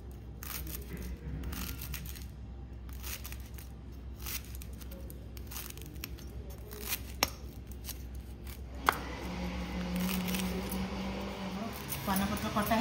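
Betel leaves being cut into pieces with a knife in a home kitchen, a steady run of quick, fairly faint chopping taps over constant low background hum.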